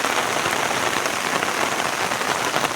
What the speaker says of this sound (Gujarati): આ રીતના જુઓ વરસાદ ચોમાસા કરતા ઘણો બધો વરસાદ છે